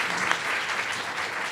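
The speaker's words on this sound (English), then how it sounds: "I'd like if everybody could give our panelists another round of applause." Steady applause from a workshop audience for a panel of speakers, a dense even wash of clapping held at a constant level throughout with no voices over it.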